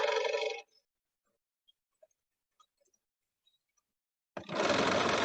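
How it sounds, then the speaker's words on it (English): A Bernina sewing machine that needs oil runs with a loud, clacky mechanical rattle for a short burst, stops for a few seconds of near silence with faint ticks, then starts running loudly again. "And we're a little clacky. This machine needs oil."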